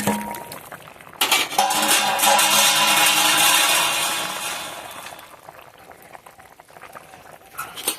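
Fish curry gravy with winter beans bubbling in a pot, a steady close bubbling hiss with occasional clinks of utensils, fading somewhat toward the end.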